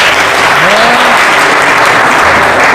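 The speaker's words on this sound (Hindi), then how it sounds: "एक बार जोरदार ताली बजाए प्रभु के लिए।" A church congregation claps loudly and continuously in praise, a dense, close wash of applause that fills the whole moment, with a faint voice gliding briefly beneath it.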